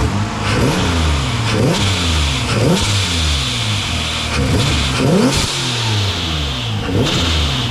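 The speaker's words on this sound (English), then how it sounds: "I can give it a couple revs, and you can hear how like the induction" A modified Hyundai engine is revved repeatedly up close, about six quick throttle blips rising and falling in pitch over a steady idle, with intake whoosh.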